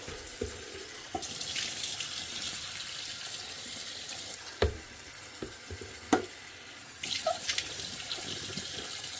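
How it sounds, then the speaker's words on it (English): Tap water runs and splashes as an ultrasonic jewelry and eyeglass cleaner tank is rinsed under a faucet, a steady hiss with a few sharp knocks of the metal tank against the sink. "And then just give it a quick rinse."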